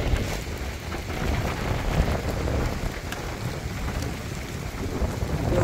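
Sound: thunderstorm with rain and wind

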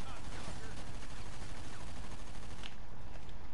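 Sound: gunfire in the video game GTA 5

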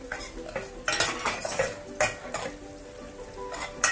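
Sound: stirring cumin, coriander and fennel into cooked onions

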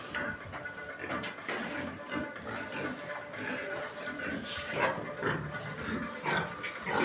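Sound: Landrace boar grunting

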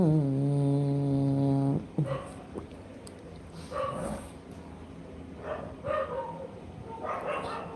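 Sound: dogs barking

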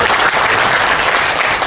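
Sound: audience applause

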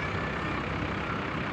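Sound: tourist bus moving in beach parking lot

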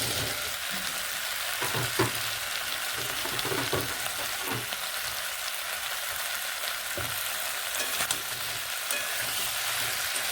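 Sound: onion stalks frying and being stirred with potatoes

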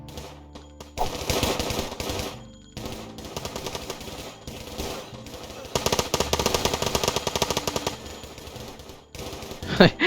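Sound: gunfire in a video game

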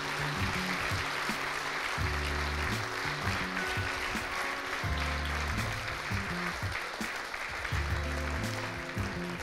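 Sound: audience applause for the speakers

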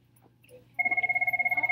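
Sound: telephone ringing

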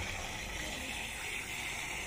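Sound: water gushing from a turned tap for watering plants

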